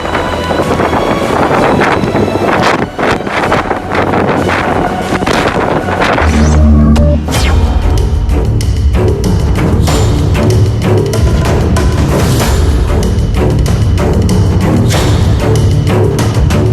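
Storm-force wind from Storm Ivar roars and buffets the microphone continuously in a Norwegian town centre, with heavy low rumbling gusts and no clear voices.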